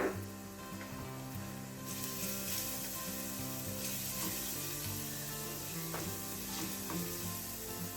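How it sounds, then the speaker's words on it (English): Two cloves of garlic gently frying in a pan, with a soft, steady sizzle running the whole time beneath prominent tonal music. "We're just going to gently fry this."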